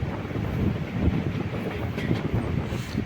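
A sleeper class carriage on the Nagercoil Intercity Special runs along the track between Neyyattinkara and Amaravila, giving a steady low rumble with faint rhythmic clacking from inside the moving coach.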